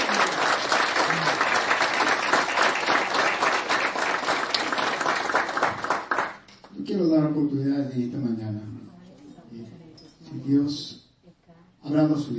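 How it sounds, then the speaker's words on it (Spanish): A church congregation applauds loudly for several seconds, dense clapping that then gives way to a voice talking, with brief bursts of clapping returning between the words. "Un aplauso fuerte al Señor."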